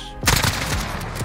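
AK-47 rifle firing in Call of Duty Modern Warfare, a sudden loud burst of rapid close automatic shots that starts abruptly and rattles on in a fast, even rhythm.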